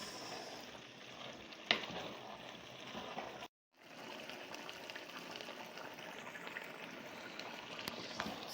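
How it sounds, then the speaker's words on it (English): Meat pie sauce thickened with flour mixed with water simmers at a low boil while being stirred in a large pot, a steady faint bubbling hiss broken by one sharp clink and a brief silent gap midway. "So after adding the flour, you just stir together and allow it to boil a little"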